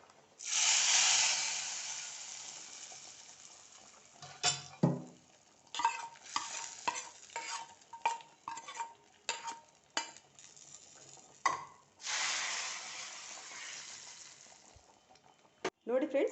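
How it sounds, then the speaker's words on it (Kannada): Dried red chillies, curry leaves and asafoetida are tempered in hot oil for an Udupi-style brinjal bolu huli, giving a loud hissing sizzle that drops back, then crackling stirs and bursts, and a second strong sizzle near the end. "ಇವಾಗ ಒಗ್ಗರಣೆ ಹಾಕೊಳ್ಳೋಣ."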